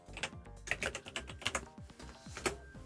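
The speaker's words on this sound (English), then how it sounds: "Let's type it in." Keys clatter on a computer keyboard while someone enters a Digimon card name into a market search, in irregular bursts of close, moderately loud keystrokes with brief pauses between.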